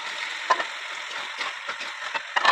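Pasta dropped into a pan of sizzling sauce with fried chicken for chicken pasta chow mein, a steady close frying hiss broken by a few sharper crackles and stirring scrapes, no voices.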